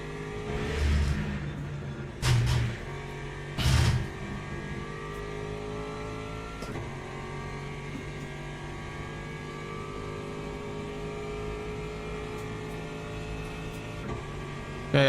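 LMP1 prototype race cars in the sim racing game Le Mans Ultimate, a few brief engine whooshes early on over a steady drone of the player's own car engine running continuously.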